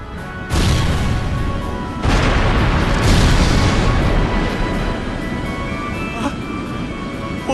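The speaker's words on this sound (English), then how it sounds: "Where did those shots come from?" Gunshots ring out during a Trails Through Daybreak 2 cutscene, a series of loud booming blasts that come in bursts over a constant dense rumble, with speech mixed in.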